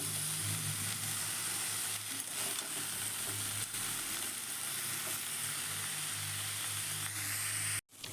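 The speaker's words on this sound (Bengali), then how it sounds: "নুন আর হলুদ অ্যাড করে আর একটু ভালোভাবে ভেজে নেওয়া হবে।" Vegetables, including cauliflower stalks, frying in a pan with salt and turmeric. A strong, steady sizzle fills the clip over a low hum and cuts off abruptly just before the end.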